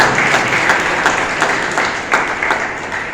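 A crowd at a one-day table tennis tournament gives a hearty round of applause for the team, steady dense clapping throughout with a few louder individual claps standing out.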